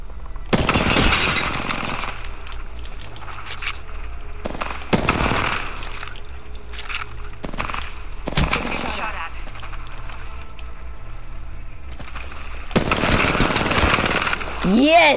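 Bursts of gunfire from the video game Apex Legends, several loud volleys spaced a few seconds apart over constant game ambience, with a rising whistle-like effect near the end.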